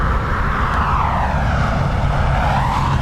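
Airplane on approach to runway 10R at Dublin Airport, a steady loud roar of jet or propeller engines that slowly shifts pitch as it nears, with no talk over it.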